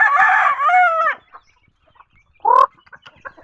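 Chickens at feeding time give a loud, close crowing call followed by a short squawk and scattered soft clucks, with no talking.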